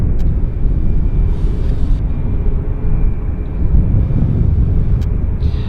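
Jet airliner arriving at Vancouver Airport, a steady broad roar with deep rumble holding loud and constant throughout, with faint wind buffeting on the microphone and no talk.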